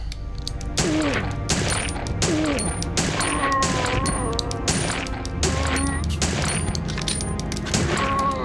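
Resident Evil: Survivor gameplay with repeated sharp gun reports and impact clatter in a steady, busy stream, mixed with other game effects and tones.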